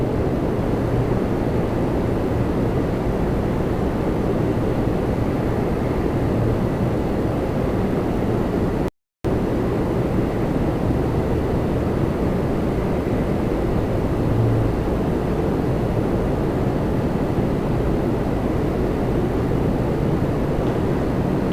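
A Jazz Aviation airliner on flight 896 comes in to land at Toronto Pearson airport, producing a steady, broad jet roar across the whole span that cuts out briefly once partway through.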